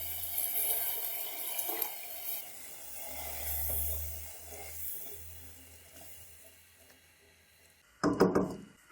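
Reserved water from boiling chickpeas is poured into a pan of khoye wale chane: soft, faint watery trickling and gurgling builds gradually, then ends in a brief louder splashing burst near the end.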